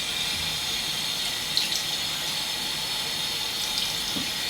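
Water runs steadily from a tap to rinse off, a continuous close hiss and splash with a few faint knocks and spatters, no talking.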